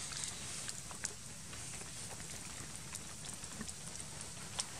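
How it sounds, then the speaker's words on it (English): Light rain patters steadily on a nearby surface at a campsite, soft and even, with occasional sharper drops landing close by. "it just started raining."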